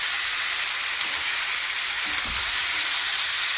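Bottle gourd sizzles and fries steadily in a pan while being cooked for lau bori, a constant close hiss with a faint stir partway through.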